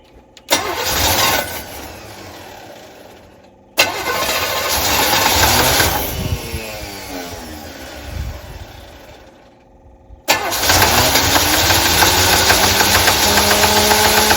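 A 1981 Chevy C10 pickup engine cranks and fires up three times, each start catching with a sudden loud burst before settling into a rough, uneven idle, the last run staying steady and close.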